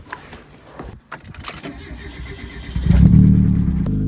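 A car engine cranks and catches, then settles into a loud, steady idle near the end, after some rustling and key handling, before a test drive on a tire patched with JB-Weld.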